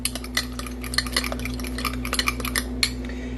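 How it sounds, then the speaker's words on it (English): Mug bread batter being stirred in a mug, with a rapid run of close spoon scrapes and light clinks against the sides over a steady low hum, no speech. "I'm just going to give it a little bit more of a stir."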